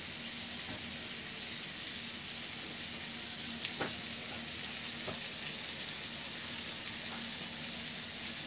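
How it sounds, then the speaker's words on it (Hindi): Paneer frying in butter in a pan gives a steady, close sizzle with no talk, broken by a sharp utensil clink midway and a few softer taps afterward. "अब पनीर को हम फ्राई कर रहा हूँ, थोड़ी सी और बटर हम डालेंगे।"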